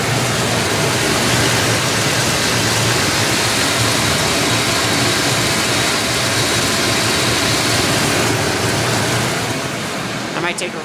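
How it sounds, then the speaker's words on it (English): An old Cadillac engine idles, a loud, continuous, steady rumble heard up close and alone, easing slightly toward the end. "Listen to the engine purr."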